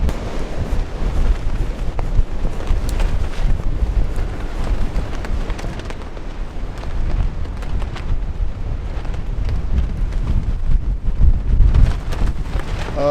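Strong storm wind roars and buffets the microphone at a campsite during heavy rain, a loud, continuous rumbling gust with no letup.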